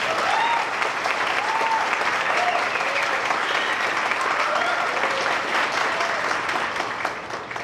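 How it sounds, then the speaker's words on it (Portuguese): Sustained audience applause fills the room at a constant loud level, with some crowd voices mixed into the clapping before it eases slightly at the end. "Recebam de todos a salva de palmas novamente."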